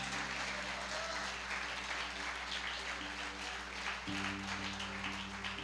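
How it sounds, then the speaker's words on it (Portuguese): A church congregation applauds loudly in a big hall, a continuous roar of clapping over a sustained organ or keyboard chord that shifts midway, with no speech heard. "Aplauda bem forte o nome de Jesus."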